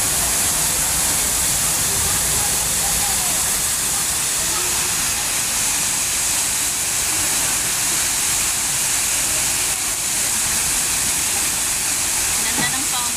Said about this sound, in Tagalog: Ganda ng fountain.